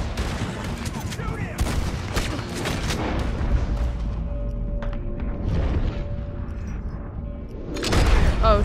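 Rapid gunfire from a shootout in Red Dead Redemption 2, loud and dense with repeated shots and booms over a rumbling game soundscape, while people talk over it.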